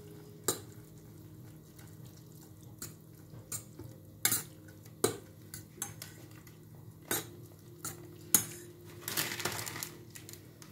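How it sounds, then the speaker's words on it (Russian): Instant noodles are stirred thoroughly in a container, giving a series of sharp, close clinks and scrapes of utensil against the dish at an uneven rhythm, with no talking. "Давайте тщательно перемешаем."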